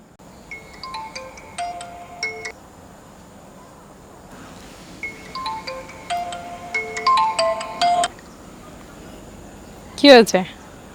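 A mobile phone ringtone plays an electronic melody in two separate bursts of bright, repeating tones, with a short rising chirp near the end, set against a quiet room background.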